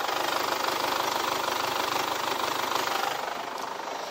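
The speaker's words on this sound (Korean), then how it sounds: "이 정도의 엔진 소음이라고 봐주시면 되고요" A Chevrolet Captiva 2.0 diesel 2WD LT engine idling steadily, a continuous knocking diesel rumble heard close and moderately loud, easing slightly toward the end.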